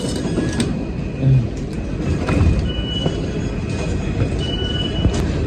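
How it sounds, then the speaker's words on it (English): Inside the Gare du Nord train station in Paris, the constant rumble of rail traffic and station machinery fills the space, with occasional thuds and faint high squeals, loud and steady, without talk. "So this is the train station."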